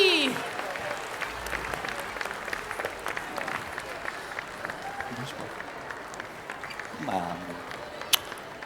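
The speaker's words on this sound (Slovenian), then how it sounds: "Prosim, vstanite in ploskajte, dragi starši, dragi otroci, vile, gostje, škrati." An audience of parents and children at a children's stage show claps continuously, a dense scatter of hand claps that keeps a steady level, while voices speak over it.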